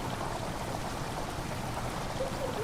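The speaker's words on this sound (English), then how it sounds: "The water is rushing into the chamber and makes a strange sound." Water rushing into a chamber in the horror game Amnesia, a steady, dense, hissing stream of flow filling the whole moment, moderately loud with no voices.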